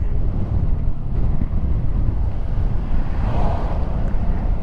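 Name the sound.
strong wind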